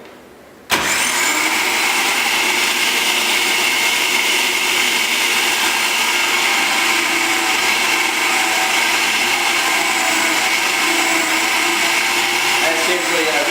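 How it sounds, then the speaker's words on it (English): A juicer starts abruptly and runs for a long stretch, grinding bok choy with a loud, steady, whirring motor drone that stays even throughout. "we're going to juice up the bok choy"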